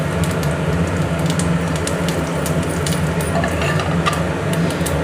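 Dried red chillies and cumin seeds sizzle and crackle steadily in hot oil in a pan, a close, loud continuous frying hiss with small pops and no talk.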